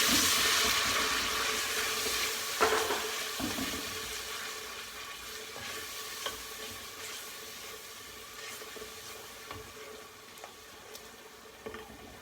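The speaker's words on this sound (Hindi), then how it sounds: "इसमें अब थोड़ा सा पानी ऐड करेंगे।" Water runs and splashes steadily into a cooking pot for palak chana dal for several seconds, a continuous hissing pour with a few small clinks, gradually quieting.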